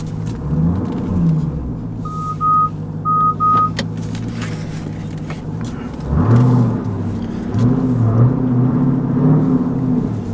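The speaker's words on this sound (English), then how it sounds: "now I'm finna back the big truck up" A Jeep Trackhawk rumbles at low idle while backing up, its engine swelling louder partway through, with a couple of short electronic beeps over the steady close drone.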